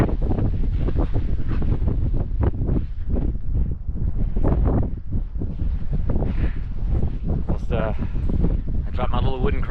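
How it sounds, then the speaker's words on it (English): Strong wind buffets the microphone on a mountain ridge during a ski ascent of Mt. Yale's East ridge, a loud, continuous rushing roar with gusting surges throughout, while people talk over it. "Yeah, that's windy, guys."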